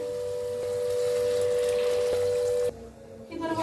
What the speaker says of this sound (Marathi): आता मी साईडला इकडं गरम पाणी ठेवलं होतं गरम पाणी ओतूया